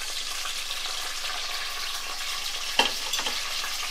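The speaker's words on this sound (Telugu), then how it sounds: "ఇవన్నీ కట్ చేసుకొని ఇలా వేసుకొని బ్రౌన్ వచ్చిన దాకా వేపుకోండి." Sliced onions and green chillies frying in oil for chicken biryani, a constant close sizzle with a sharp stirring clatter near the end, no talking.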